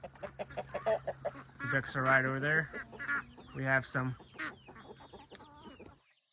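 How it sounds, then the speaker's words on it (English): Chickens cluck and squawk nearby in a lively run of calls, with ducks among them and a person talking over part of it on a farm with big white broilers. "And if you hear the ducks"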